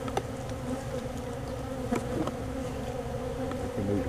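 Bees swarm around a bird house hive, a steady, dense buzz close by that holds without a break, with a few louder passes near the end.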